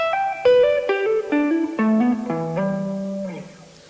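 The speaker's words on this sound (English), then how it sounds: "this is called a hammer-on, like this." Electric guitar hammer-ons: a quick series of clean, sustained notes stepping downward, each new note sounded by a fretting finger striking the string rather than a pick, played alone and up close.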